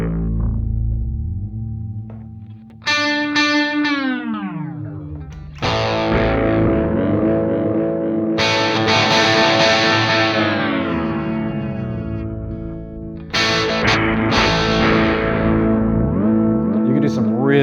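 Electric guitar run through an octave-down pitch effect on a HeadRush pedalboard, with deep sub-octave notes blended with the dry tone, sustained chords and falling dive-bomb pitch swoops, loud and distorted with echo.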